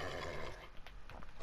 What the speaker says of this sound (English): let's try out this horse